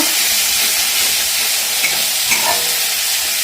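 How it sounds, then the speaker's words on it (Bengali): Spices frying and being stirred in hot oil for a Bengali chitol fish curry, a loud continuous hissing sizzle with a couple of soft scrapes of the spatula, close up and with no talking. "এখন দিচ্ছে মশলা, সব মশলা দিয়ে এটাকে ভালো করে নাড়াচাড়া করে আমরা রান্না করে নেব। মশলাটা একটু ভাজা ভাজা করবো।"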